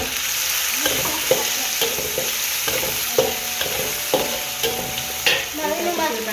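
Tomatoes go into a hot frying pan and sizzle steadily, with a spatula stirring and scraping in regular clacks against the pan, close and clear with no talking.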